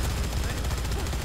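Rapid bursts of automatic gunfire from the video game Dead Rising 3 crackle continuously, dense and loud, with a faint voice mixed underneath.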